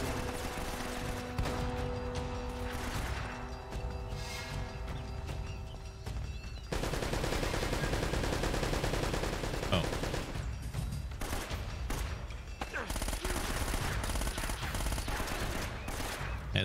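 Gunfire in Uncharted: Drake's Fortune, a dense fusillade of automatic shots and bursts that runs almost the whole way through, loud and continuous over game music and ambience, with a brief lull around the middle before the shooting resumes.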